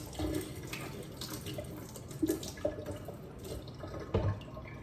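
Running water splashes steadily from a tap, with a few louder splashy bursts as an instrument is rinsed with distilled water beneath the stream.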